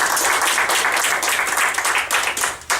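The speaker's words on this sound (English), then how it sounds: "Another round of applause for Adrian." A crowd applauds continuously, dense overlapping clapping that swells and dips slightly throughout, loud and close.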